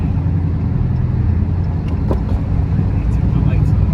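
Dodge Charger Scat Pack Widebody with the back window missing, its engine and exhaust droning steadily and loudly while driving on a highway, with wind rumble and talk inside the car.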